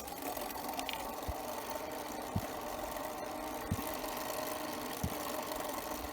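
A Peugeot 103 moped engine running rough and misfiring, a steady buzzing drone broken by a few irregular sputtering knocks, close and continuous with no talking.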